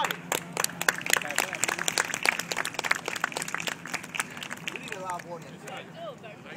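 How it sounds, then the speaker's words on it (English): Scattered clapping from a street audience at a live outdoor show in Battery Park, sharp hand claps spread across several seconds amid loud crowd talk and voices. "Let me hear you clap to get the show started."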